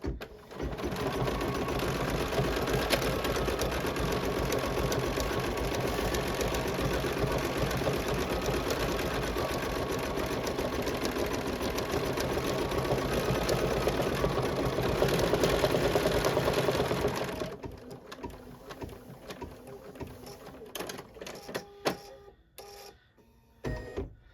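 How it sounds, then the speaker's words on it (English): An embroidery machine stitching a bunny boot quilt block, a steady loud whirring chatter of rapid needle strokes running continuously, then breaking into short stop-start bursts near the end. "getting ready to stitch the stem. Just going to go down the middle of this."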